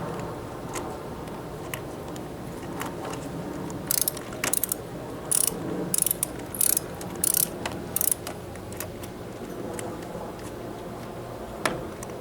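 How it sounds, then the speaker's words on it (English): An inexpensive Harbor Freight ratchet tightens a bolt while mounting a Wind Cheeta on a camper, giving short bursts of close, crisp pawl clicking over several seconds against a steady background hum. "I'm using a ratchet that is a very inexpensive ratchet I bought from Harbor Freight Tools"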